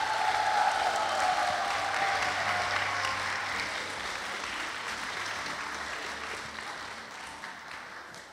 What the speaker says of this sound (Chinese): 再给他热切掌声